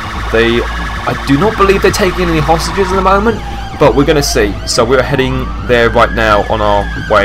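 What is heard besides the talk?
police sirens in video game GTA 5 LSPDFR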